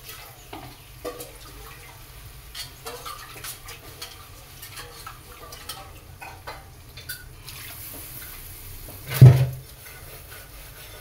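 Masala scraped and stirred in a kadai with boiled mung and chana dal over a medium-low gas flame, a steady run of soft scraping strokes with one louder clatter near the end.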